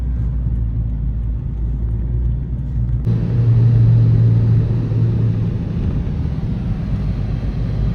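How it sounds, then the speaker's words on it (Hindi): A car drives along winding rural roads through a small English village, with a steady low engine and road rumble close by that grows louder and heavier partway through, with no talk. "ध्यान से गाड़ी चलाए।"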